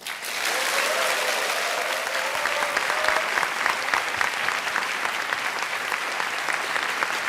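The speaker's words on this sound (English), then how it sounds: "please may I ask to give a big applause to Chairman Erik" Sustained audience applause for a speaker at a live chat event with Google's Eric Schmidt, a dense, even clapping that carries on for several seconds.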